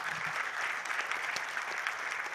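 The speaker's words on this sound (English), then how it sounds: "Can you please give them a round of applause?" A crowd at a public lecture for the 30th commemoration of the genocide against the Tutsi in Rwanda gives a panel a round of applause. The clapping is steady and dense and fills the whole moment.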